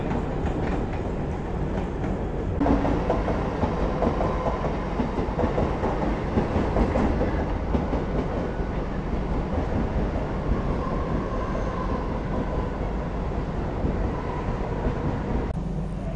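The Mandovi Express, travelling from Madgaon toward Mumbai, rumbles steadily with a loud, continuous roar and faint rhythmic clatter of wheels over the rails, heard from on board.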